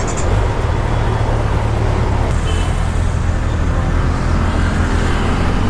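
Kawasaki Ninja 1100SX motorcycle on the road, a steady broadband rush of engine and wind noise holding at constant level throughout with a low engine drone underneath and no talking.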